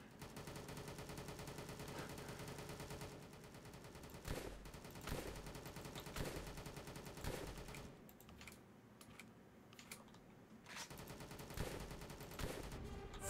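Gunfire in a VR video game, rapid bursts of fairly faint, clipped shots repeating in runs, with a short lull partway through and no talk over it.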